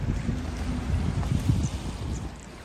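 Steady gusting wind at a beach at low tide roars across the microphone, a low rumbling buffet that swells and eases without pause.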